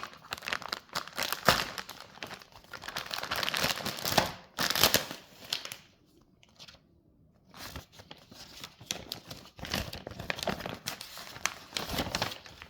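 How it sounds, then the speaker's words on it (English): Cardboard and plastic packaging around a Samsung CU7100 4K TV is torn and crumpled in close, rapid crinkling bursts, with a brief quiet pause midway before the ripping resumes. "Let's check out some quick packaging butchery."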